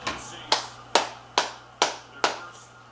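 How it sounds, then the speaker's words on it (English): A small child claps hands to cheer for the Vikings during a football playoff game, six evenly spaced close claps over a faint steady hum, with no talking. "Let me see you clap"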